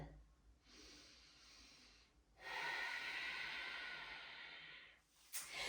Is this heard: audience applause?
no